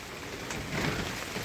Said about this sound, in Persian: صدای باد و بارونه